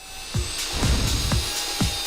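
A saw cuts wood during a home renovation, with four rhythmic rasping strokes about half a second apart, close and moderately loud.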